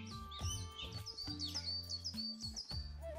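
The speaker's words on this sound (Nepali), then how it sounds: "चराहरू कराउँदैछ" Birds chirp and tweet among the trees of Queens Gardens in Townsville, Australia, a busy overlapping chorus of short, bright calls and trills running steadily throughout, fairly close and clear with no talking.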